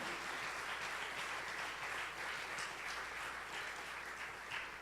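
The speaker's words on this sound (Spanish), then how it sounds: "dale un fuerte aplauso al que vive" A church congregation applauds during a Spanish-language sermon, a continuous, even roar of clapping from a large group, faint and distant in level.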